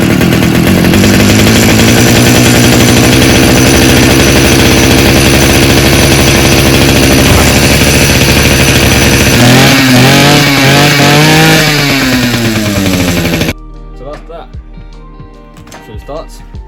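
A petrol grass cutter engine runs loud and close with a raw buzzing drone that rises and falls in pitch before cutting off, leaving quieter handling noises at the end.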